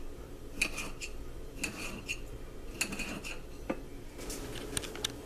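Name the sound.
knife cutting cooked steak into bite-sized pieces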